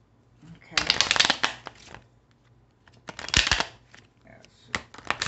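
Tarot cards being shuffled in two distinct bursts of crisp riffling close to the microphone, with quieter handling clicks between them.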